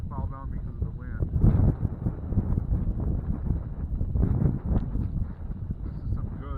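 Wind buffeting a microphone on a frozen lake during an ice fishing outing for pike, crappie and bluegill in flooded timber, a steady low rumble with gusty surges throughout, mixed with some nearby handling noise.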